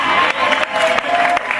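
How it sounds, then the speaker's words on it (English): Applause and cheering from a Disneyland passholder panel audience, a loud crowd of clapping with brief surges, close and continuous. "I was trying to get them to clap for all my..."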